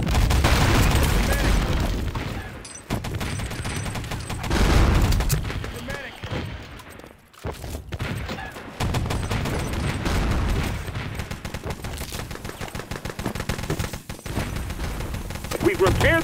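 Sustained gunfire from a Wolfenstein: Enemy Territory multiplayer match, continuous loud bursts and booms filling the whole stretch with brief lulls, under mixed game noise and voices.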